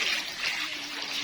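Water splashes and pours into a pot while kuwah belangong, an Acehnese curry, is cooked; the bright, hissing splatter is close and continuous for the whole moment.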